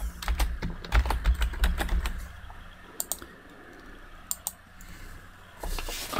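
Rapid clicking keystrokes on a computer keyboard, typing a name into a drawing sheet in CAD software, in a quick burst followed by a few scattered isolated taps in a quiet room.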